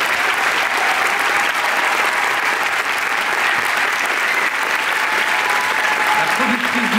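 Sustained, dense applause from a large audience honoring a film crew on stage, steady and loud throughout, with a voice cutting in briefly near the end.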